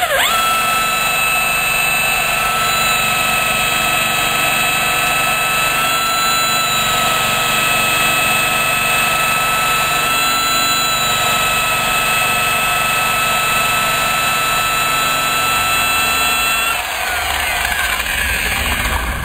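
A rotary polishing machine buffs polish into black car paint to correct deep scratches, a steady loud whine with constant tonal hum throughout, dropping in pitch near the end as it slows.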